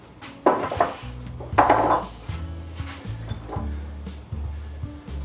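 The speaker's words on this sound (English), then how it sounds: "when I use a chisel, I stand to this side, like this, and I tap it" A hand chisel is tapped against steel with a hammer, giving two sharp metallic strikes close by, followed by lighter clinks and a low ringing hum.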